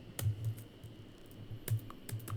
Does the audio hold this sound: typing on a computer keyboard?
yes